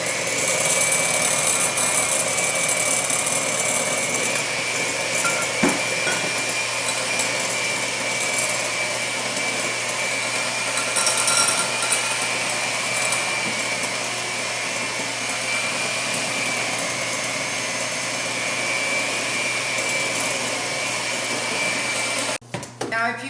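A hand mixer whirs steadily through cake batter of milk and flour for an apricot upside-down cake, a continuous close motor drone that runs unbroken before cutting off abruptly at the end.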